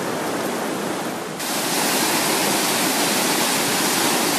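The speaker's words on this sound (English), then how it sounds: "this is the River Sid, and it's flowing too strongly for people to be able to use the ford today" The River Sid at Sidmouth runs too high across a ford, a dense, unbroken rush of water that roars loud and close. The roar grows fuller after the first second.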